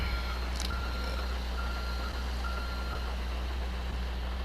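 A truck reversing in GTA 5 at night in the rain sounds a steady series of evenly spaced high beeps over a constant low engine rumble, moderately close, with no talking.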